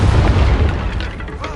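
A Confringo fire spell blast cast in the video game Hogwarts Legacy, a loud booming explosion with a heavy low rumble that decays over about a second and a half.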